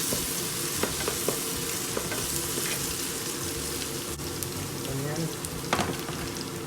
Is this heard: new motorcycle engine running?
no